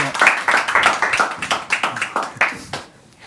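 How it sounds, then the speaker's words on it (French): A studio audience applauds a guest being welcomed onto a French talk show, with a steady run of close, crisp handclaps lasting about three seconds before fading out. "Je vous demande un tonnerre d'applaudissements pour Christophe Ambre."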